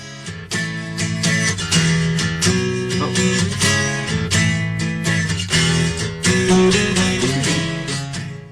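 Upbeat theme music plays steadily, with punchy rhythmic beats and bright melodic chords throughout, loud and without talking.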